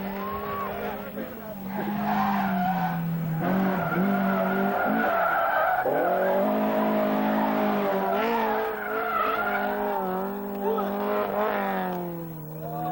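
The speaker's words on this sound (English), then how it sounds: "Drive a beamer and throw it sideways." A BMW rally car slides sideways at a Barbados rally stage, its tires squealing in a long, wavering screech over a steady engine drone, with a commentator talking over it.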